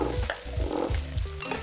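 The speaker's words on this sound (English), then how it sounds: "聽到個鑊響嘛？ 炸嘅聲響係咪？" A wok loudly sizzles as ginger egg fried rice is stir-fried, with continuous crackling and rhythmic scraping of the spatula against the metal, close and prominent with no talking.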